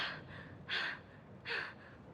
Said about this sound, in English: I can hear someone breathing heavily and running. They sound frantic.